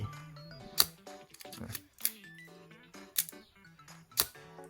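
A Miranda film camera's shutter fires four times at roughly one-second intervals, each a crisp mechanical click close by, with soft background hum between.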